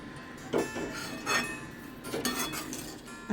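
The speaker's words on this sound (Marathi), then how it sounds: "थोडी थोडी साखर घालून आपण ढवळून घेऊया" Sugar being stirred into bottle gourd halva in a pot, with a spoon repeatedly clinking and scraping against the metal in short, irregular strokes, close and moderately loud, with no talking.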